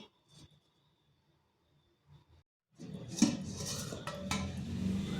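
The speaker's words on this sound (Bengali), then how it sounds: "এরপর এটাকে ঢাকা দিয়ে আধ ঘন্টা রেখে দিচ্ছি" A lid is set over a metal pot of sooji chomchom, semolina sweets, after near silence, giving one sharp metallic clink and a loose rattle, then a steady low hiss of cooking.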